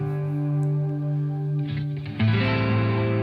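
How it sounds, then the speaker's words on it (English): Electric guitar played through an Analogman overdrive pedal with a bass cut switch: a sustained, harmonically rich driven chord rings out, then a louder restruck chord with a bright attack near 2.2 seconds, with no talking. "as I'm hearing this overdrive"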